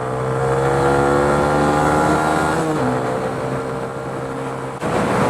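Suzuki Van Van 125 motorcycle engine held at full throttle, a loud sustained harmonic drone from the rider's position with pitch rising and then dipping as the load shifts, no talking.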